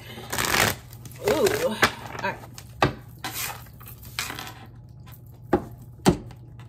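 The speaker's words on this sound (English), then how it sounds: "As soon as I cut the deck" A deck of tarot cards is shuffled and cut, giving soft riffling flurries and several sharp taps and slaps at irregular moments, fairly quiet and close, with a person talking faintly at times.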